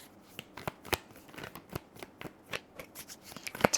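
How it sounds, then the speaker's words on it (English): Tarot cards being handled and shuffled, a dense run of close, crisp card riffles and flicks with irregular snaps, steady throughout without any talking. "let's get some tarot cards out"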